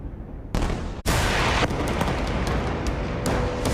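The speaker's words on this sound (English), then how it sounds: "Hamas militants firing one barrage of rockets after another into Israel" A barrage of rockets fired by Hamas militants toward Israel makes a loud, sustained roar. A sharp blast cuts in near the start, then continuous rushing noise with scattered cracks follows.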